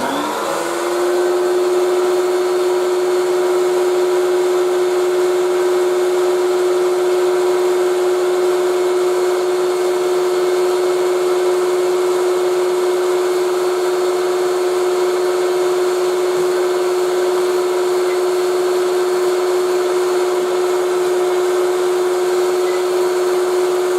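A Dyson DC01 De Stijl limited-edition vacuum cleaner fitted with a crevice tool starts up and runs with a loud, steady motor whine and airflow roar that holds constant throughout, close by and alone.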